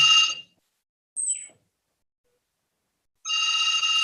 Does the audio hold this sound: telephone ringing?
yes